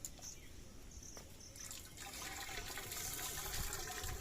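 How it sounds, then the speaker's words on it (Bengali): Water being poured in to prime a Kirloskar 2 hp motor pump, a continuous gushing and splashing pour that grows fuller and louder after the first couple of seconds, heard close up. "এইভাবে জল ভরতে হবে।"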